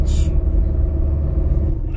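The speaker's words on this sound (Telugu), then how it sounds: "అసలు ఇక్కడ మామూలు ట్రాఫిక్ జామ్ అవ్వలేదు, కనీసం ఒక 1/2 hour పైగా ఆగున్నాం ఇక్కడ" Heavy road traffic stuck in a long jam near the Koshi Barrage in Nepal, with lorries idling: a loud, steady low engine rumble throughout, with a short hiss of air brakes at the very start.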